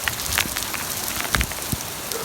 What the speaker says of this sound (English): It's hailing and raining.